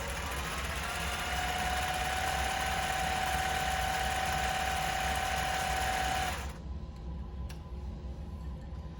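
Sewing machine stitching a tight zigzag line, running as a steady, even mechanical whir with a faint ticking rhythm for about six seconds before it stops abruptly, leaving quiet room tone.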